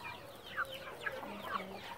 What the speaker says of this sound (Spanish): Estos son gallos